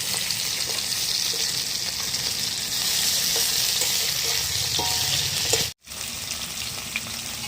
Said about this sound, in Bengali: এই মাছটা হালকা করে ভেজে ঝোল করবো